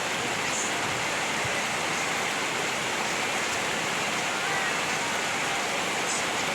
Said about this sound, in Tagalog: Lakas-lakas na ulan guys.